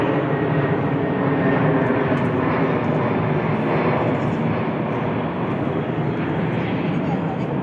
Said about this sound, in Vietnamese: Rồi máy bay bay lên này.